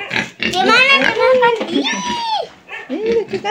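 A white farm pig oinks and grunts in close, drawn-out squealing snorts, with someone talking over it in Indonesian.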